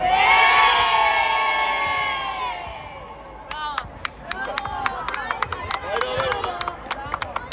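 Children at a boys' mini basketball cup medal ceremony in İzmir shout together in a loud burst on a count, followed by scattered cheering, clapping and chatter from the crowd.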